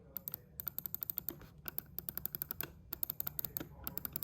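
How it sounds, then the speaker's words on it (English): Mouse buttons on a DM6 Holey Duo with Huano Blue switches click sharply and rapidly in uneven bursts, crisp close-up snaps with short pauses between runs and no voices. "Yeah, so the buttons are obviously clicky"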